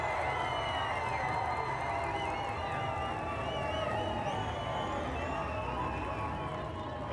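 Large stadium crowd cheers and chants after a goal at a men's world lacrosse championship game between Australia and USA, a sustained, steady roar with whoops rising above it.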